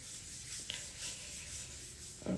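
Snail goo being rubbed into skin: a soft, continuous close-up rubbing and swishing that stays faint and steady for about two seconds, with one small tap near the end and no talking.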